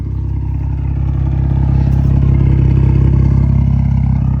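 BMW 218i with an MHD Stage 2 tune, its engine droning loud and close in a steady low hum that rises slightly in intensity, with no talking.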